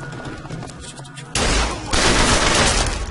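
Gunfire in Bioshock Infinite breaks out as a sudden loud burst after a quieter lead-in, with a second, heavier volley close behind that stays sustained and harsh to the end.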